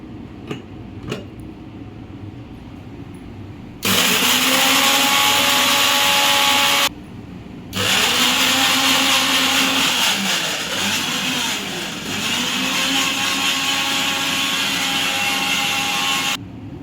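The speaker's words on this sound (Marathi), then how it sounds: "आता आपण हे मिक्सरच्या भांड्यामध्ये घेऊ फिरून घेऊया मिक्सरमध्ये" A mixer grinder grinding dry ingredients whirs loudly in several bursts, starting and stopping with short pauses, its motor pitch shifting as it grinds.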